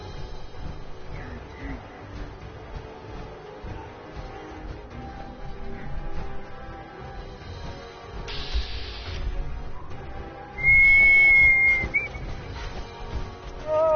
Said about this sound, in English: I'm whistling because I'm scared